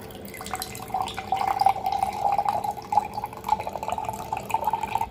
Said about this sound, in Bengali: তরমুজের রস বের করা হয়ে গেছে, এবার রস ছেঁকে নেব।